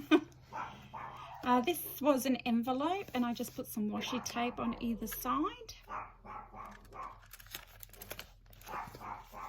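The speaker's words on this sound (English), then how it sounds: "Sorry about my dogs going off." Pet dogs bark in short yapping bursts through the first half, indoors and fairly close, while someone talks over them and keeps talking after the barking dies down.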